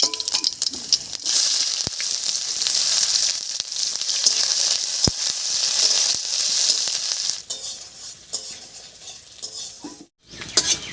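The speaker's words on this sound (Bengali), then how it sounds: "তেলের মধ্যে দেব দুটো শুকনো লঙ্কা আর সামান্য একটু গোটা জিরা এর উপরে দিয়ে দেবো পেঁয়াজ কুচি" Dried red chillies, whole cumin and chopped onion crackle in hot mustard oil, a loud, dense, continuous sizzle lasting throughout, easing slightly toward the end with a brief dropout.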